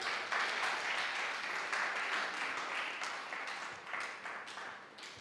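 Congregation at a Sunday miracle church service clapping together, a dense, steady burst of applause that fills the room for several seconds with no voices over it.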